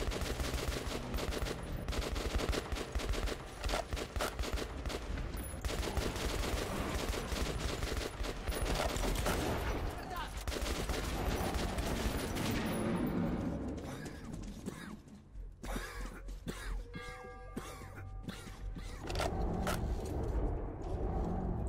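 Rapid bursts of video game gunfire and explosive shots from Metro 2033 Redux in a dense, continuous barrage, loud throughout, thinning briefly near the end before picking up again.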